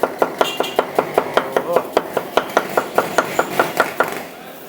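A knife chops salad vegetables at a street kebab stall in Tellidere, Adana, a quick, even run of sharp taps on a board that stays close and clear, about five a second, then stops near the end.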